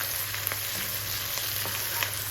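Onions fry in a pan with a little salt, giving a steady, even sizzle and crackle that fills the whole clip at moderate volume, with no talking over it.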